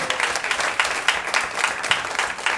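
Audience applause fills a comedy club at West Side Comedy Club, a steady wash of many hands clapping close and loud, with swells and small peaks throughout and no voices over it.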